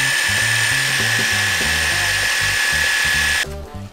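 An IMAX IMPC 005 GT cordless pressure washer spraying, a steady, loud high-pitched whine and hiss with lower mechanical pulsing underneath, cutting off near the end.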